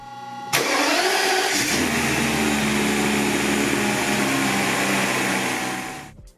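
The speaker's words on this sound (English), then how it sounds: "the iconic startup sound can't be missed." A Mercedes M120 V12 engine cranks briefly and fires up loudly, then settles into a steady, full-bodied idle that holds for several seconds before cutting off, close and with no talking.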